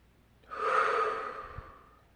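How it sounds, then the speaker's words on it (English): A single deep breath is drawn in and let out, a soft, close, breathy rush lasting about a second and a half, alone in a quiet room. "let's all just take a deep breath"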